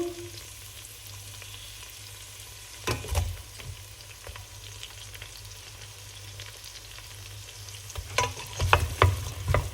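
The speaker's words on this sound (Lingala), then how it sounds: "po tobwaki poivron na biso po tozoboka oignon ya beurre na biso" Peppers and onions fry in butter in a pan, a steady close sizzle broken by stirring scrapes and clacks that grow busier toward the end.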